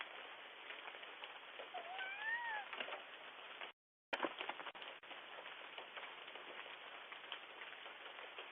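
A tabby cat meows outdoors through a doorbell camera's thin, band-limited microphone, giving a few rising and falling cries early on against a steady hiss like rain, then a brief dropout and a sharp click.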